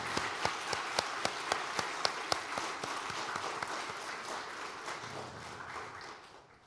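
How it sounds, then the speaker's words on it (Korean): Church congregation applauding the choir at a year-end service: a run of sharp, evenly spaced claps rising into a broad round of clapping that gradually fades, with no talk over it. "우리 격려하면서 한번 박수 한번 하시죠"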